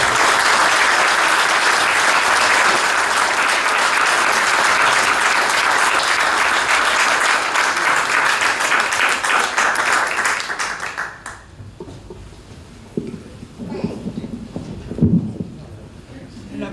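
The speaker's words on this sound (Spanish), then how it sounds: "El aplauso lo dice todo." Audience applause after a lecture at an academic induction ceremony, a loud, dense clapping that runs for about eleven seconds and then stops abruptly, leaving a quiet room with faint voices and small noises.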